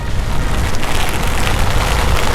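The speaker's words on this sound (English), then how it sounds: "And look at this gust, like super powerful rain." Heavy monsoon rain with powerful gusts pours down in a dense, steady roar that stays loud and constant throughout, with no voices.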